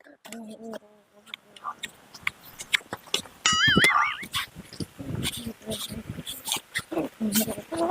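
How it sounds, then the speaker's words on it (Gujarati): A small puppy whimpers and yips in high, thin cries amid people talking close by. "કૂતરો મોટો નથી, નાનું ગલુડું જ છે"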